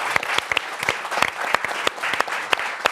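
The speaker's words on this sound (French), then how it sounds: "Je vous demande d'applaudir Oda et Dako." Audience applause at the French TV show Téléfoot's studio, with sharp, dense hand claps, lively and close, steady for a few seconds without speech.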